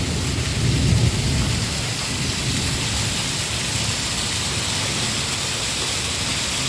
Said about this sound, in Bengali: প্রচন্ড বৃষ্টি হচ্ছে। আমার কীভাবে মেঘ ডাকছে, কীভাবে মেঘ ডাকছে